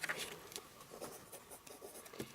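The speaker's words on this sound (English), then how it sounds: "make sure you write EP on your vellum pieces" Pen strokes scratch quickly and faintly across small pieces of vellum, making a soft, close rhythm of short scribbling rubs.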